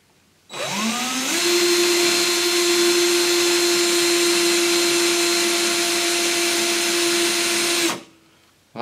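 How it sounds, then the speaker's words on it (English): An electric drill attached to the spindle of a Tesla homopolar generator spins up quickly into a steady, loud, high-pitched whine that holds for about seven seconds before cutting off abruptly. "What I've done here is attach a drill onto the spindle, and I'm going to spin that drill."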